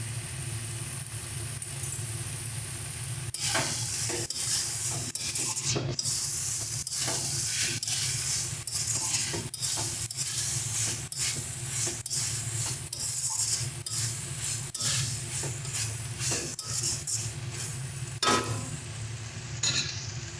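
Banana flower curry sizzling in a pan with a little ghee, a steady frying hiss with irregular scraping and stirring strokes throughout, close and moderately loud, with no talk.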